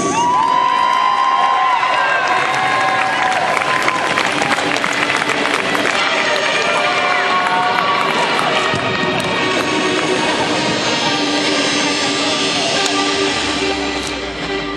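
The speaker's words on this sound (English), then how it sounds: "stomp your feet, clap your hands, and make some noise" Roller derby crowd at a DC Rollergirls bout cheering, whooping, stomping and clapping, a loud sustained roar of many voices and hand claps with shouts and whistles rising over it, easing slightly at the end.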